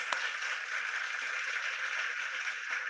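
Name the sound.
applause from Zoom meeting participants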